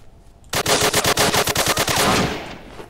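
Rapid automatic gunfire sprays at an enemy in a multiplayer zombie shooter game, a loud burst of about a dozen quick shots in even rhythm lasting around two seconds, alone without talk.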